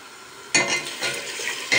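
Water poured into a pot of sautéed spinach roots, onion and garlic sets off a sudden loud hiss that fades, then a second burst of sizzle follows near the end.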